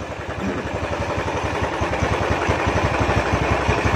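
A Honda Tiger motorcycle engine running steadily nearby, a rough rapid pulsing throb that grows slightly louder over the stretch.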